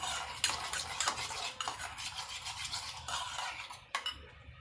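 A utensil scrapes and clinks against a pot while chicken for biryani is mixed with salt and turmeric, quiet irregular stirring strokes with a few sharper knocks and no talking.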